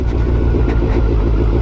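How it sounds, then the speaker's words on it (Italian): A car's engine drones steadily at low pitch as it slows under engine braking on a descending road, a continuous close rumble with no voices. "Poi guarda il freno motore che ha."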